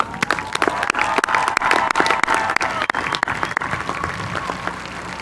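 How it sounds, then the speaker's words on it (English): A large audience applauds a Cal State Fullerton doctoral graduating class of 2014 at a commencement ceremony: sustained, dense clapping across the whole stretch, steady and fairly loud, with no voices over it. "Let's give a strong round of applause for our class of 2014"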